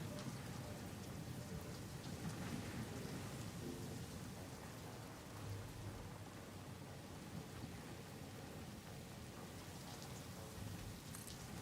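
Rain pours steadily in the video game Satisfactory at a desert oasis build, a dense continuous hiss with low thunder rumbling beneath, constant and enveloping with no voices.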